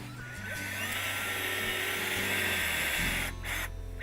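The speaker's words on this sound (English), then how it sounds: "You have to tap a tree, and that basically is drilling a hole into a tree" A power drill bores a tap hole 1.5 to 2 inches deep into a maple tree trunk, a loud steady whine running for about three seconds before stopping.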